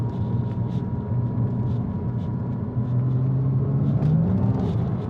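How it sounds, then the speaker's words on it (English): A Porsche Boxster S 987 spins its wheels on a slippery British winter road. The engine drones steadily and close, then rises in pitch as the tyres lose grip, over a constant road rumble. "It does spin up its wheels quite easily. There's not a lot of traction in this British winter."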